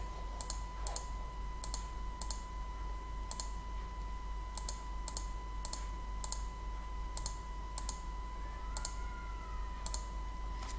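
Keys on a calculator are pressed one after another to enter numbers, making sharp, crisp clicks at an uneven pace, about a dozen presses heard close up against a quiet hum.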